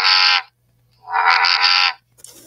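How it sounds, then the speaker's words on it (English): A large bullfrog calls twice near water, loud and resonant, with a short croak followed by a longer drawn-out one. A brief faint sound comes at the end, with no voices. "Then there's, of course, the bullfrog, which can get quite, quite large."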